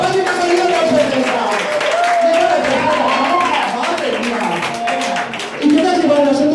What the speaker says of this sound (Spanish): Un aplauso para padre que ha salido dos veces